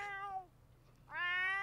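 A sick pet cat in The Sims 4 meows twice, each a drawn-out, clearly pitched harmonic call, separated by a short quiet gap.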